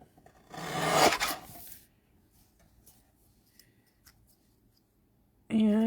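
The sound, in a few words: scissors cutting stamped card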